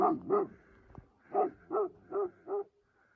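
Dogs in a snowy village bark in a series of short, harmonic yelps while chasing off a bear, two quick barks followed by four evenly spaced ones, fairly close and clear against a quiet background.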